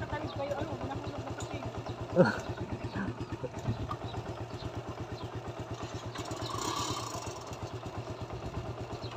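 A motorcycle engine idles with a steady, even chugging throughout, close by, while people talk over it.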